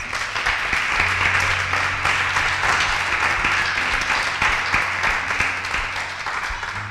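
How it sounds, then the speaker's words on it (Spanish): A church congregation applauds steadily for several seconds during a sermon, dense clapping filling the space with no voices rising above it. "¿Cuánto le dan un aplauso a Dios por eso?"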